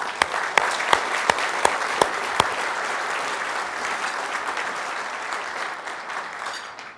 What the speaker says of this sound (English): I'd like to give you all a big round of applause for what you do every day